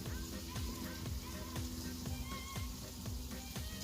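Swedish meatballs frying in a pan as they are turned, a steady close sizzle with light crackling pops and a few soft scraping knocks, some faint talk underneath.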